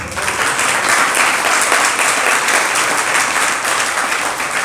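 Sustained, loud audience applause fills a lecture hall during a spiritual discourse, a dense steady wash of clapping from many hands with no talk over it.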